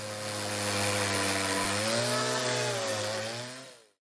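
A chainsaw engine revs in a rough, sustained buzzing drone whose pitch wavers and rises, loud and close, then cuts out abruptly near the end.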